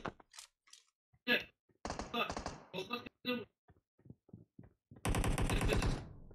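Bursts of rapid automatic gunfire in PUBG Mobile, coming from a hilltop, with a long loud burst near the end, scattered single shots and short game sounds earlier, and brief talk between them.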